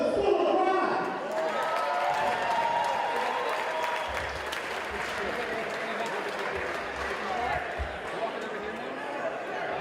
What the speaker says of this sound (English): make some noise, show some love, clap your hands, stomp your feet for the School of Rock